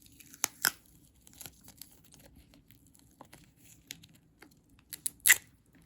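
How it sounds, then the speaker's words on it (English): Duct tape ripped off the roll in a few sharp, crackly tearing bursts spread over several seconds, fairly close and otherwise quiet, with no talking. "Now you're going to want to get a piece of tape. I'm using duct tape today"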